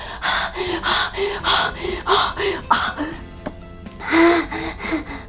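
A voice imitates fast breathing: a rapid, rhythmic run of loud, close gasping inhales and exhales, about two per second, with a brief pause before a final strong gasp.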